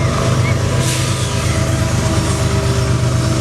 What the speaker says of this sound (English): this is Burlington Northern Santa Fe going eastbound again.